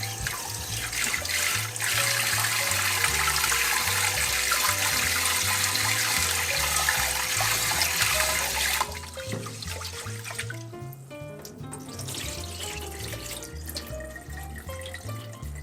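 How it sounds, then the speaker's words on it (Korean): Rinse water pours steadily off washed rice into a sink, a continuous loud splashing stream that eases into a softer trickle with scattered drips toward the end. "천천히 물을 따라 내어주세요."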